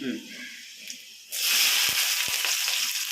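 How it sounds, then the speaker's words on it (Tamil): Onions dropped into hot oil with mustard seeds and fenugreek burst into a loud, steady sizzle after a quieter start, with a couple of sharp pops, close up. "இந்த வெங்காயம் போடுறேன்."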